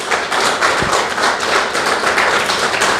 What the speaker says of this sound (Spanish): a quien le damos un fuerte aplauso en esta noche